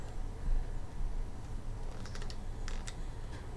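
Quick typing on a computer keyboard: a short burst of light, crisp key clicks close by, fairly faint over a low steady hum, with no talking.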